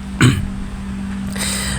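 A single close cough near the start, followed by a quieter rasp, over a steady low hum of a congested road commute.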